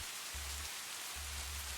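Steady rain falling on a roof, running through gutters and pattering against windows, a soft continuous hiss with low rumbling swells, quiet and even throughout.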